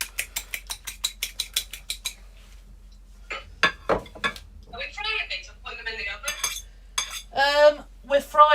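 A rapid series of light clinks, a fork whisking egg in a bowl for chicken katsu, runs for about two seconds, then a person talks.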